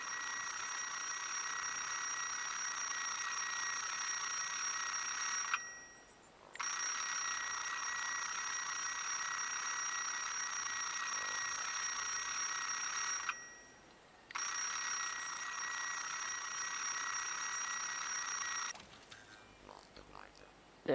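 An alarm timer rings steadily and loudly in long sustained bursts, pausing twice briefly before cutting off near the end.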